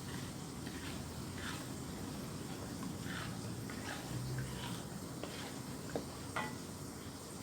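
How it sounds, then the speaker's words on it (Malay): A spoon stirs a pot of Malaysian fish curry while it simmers, with faint scraping strokes and light clinks over a low, continuous bubbling sizzle. No voices are heard. "Kacau sehingga sebati."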